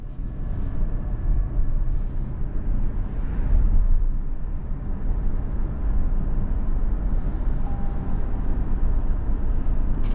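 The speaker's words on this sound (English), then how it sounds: "we're going down the road in this Prius Prime XSE" A 2024 Toyota Prius Prime XSE rolls down the road with a steady, low cabin drone of road and tire noise, constant and unbroken with no talking.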